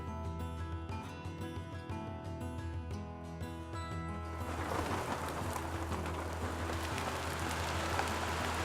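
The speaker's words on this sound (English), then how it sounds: "Here's some more of that rain." Soft background music gives way to a steady, close hiss of falling rain that continues evenly to the end.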